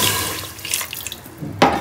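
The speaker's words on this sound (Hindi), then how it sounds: "सबसे पहले हमने इसके अंदर आधा गिलास पानी का डालना है।" About half a glass of water is poured onto half a kilo of keema in a pressure cooker, a brief close splashing pour that ends with a sharp clink of the glass.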